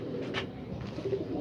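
A pigeon coos softly and close by, a low murmuring call over steady background noise with a brief brighter rustle partway through.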